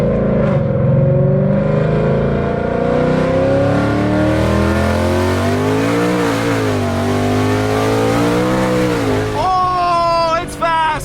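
A Whipple Stage 2 supercharged 2024 Mustang GT accelerates hard from inside the car, its loud engine revving upward through gears with rising and falling pitch, and tires breaking loose.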